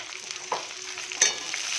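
Food fries in a pan for yogurt chicken, a soft close sizzle broken by a couple of sharp scraping stirs of a spoon against the pan.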